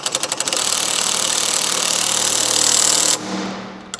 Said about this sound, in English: So we're gonna take our wrench and put it on the nut.